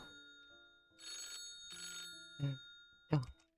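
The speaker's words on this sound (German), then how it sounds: "Telefon." A telephone rings in the Titanic Escape Simulator video game, two bursts of ringing followed by a couple of sharp, louder knocks or clicks near the end, clear and close with no talk.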